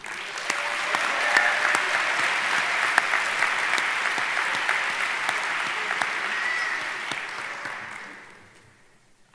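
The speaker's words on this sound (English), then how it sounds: "Let's give a big round of applause to everyone who has helped make this moment a reality." A graduation audience bursts into sustained applause for a valedictorian's farewell address, dense and steady for several seconds before fading out near the end.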